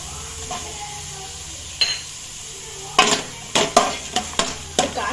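Vegetables are stirred in a pan for a Tulu soup, with a soft sizzle underneath and several sharp spoon scrapes and clinks against the pan, growing more frequent toward the end.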